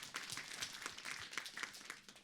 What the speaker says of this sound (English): let's clap for Matt.